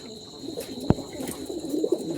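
Male Jalali pigeons in a loft give soft, low coos near the end, faint over a steady background hum.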